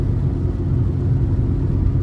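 A 2019 Kia Rio S 1.6 engine held at higher revs in sport mode, a steady, continuous low drone and rumble heard from inside the cabin, with no talk over it.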